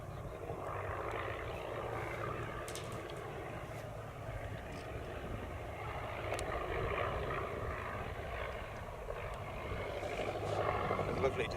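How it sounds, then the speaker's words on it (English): A de Havilland Tiger Moth biplane drones continuously overhead during an aerobatic display, its low-revving engine note rising and falling slightly as it flies, fairly distant. "Lovely display of gentlemanly aerobatics by the de Havilland Tiger Moth."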